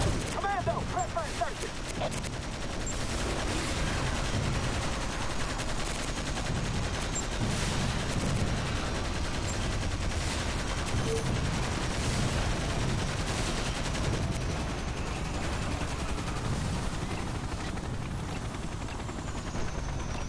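Dense, continuous gunfire barrage from Toy Soldiers: War Chest, a tabletop toy-war battle game, with rapid overlapping shots and low rumbling blasts holding steady at close range throughout, faint voices woven in beneath.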